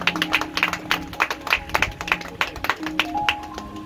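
A church congregation claps through a sermon in quick, rhythmic hand-claps that land close and bright, with sustained keyboard notes ringing underneath.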